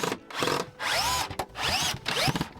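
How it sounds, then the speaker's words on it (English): Cordless power drill driving a screw straight into the wall of a narrowboat without a pilot hole, in three whining bursts with rising pitch sweeps, separated by short pauses, close and loud. "I'm just going to try screwing straight through that."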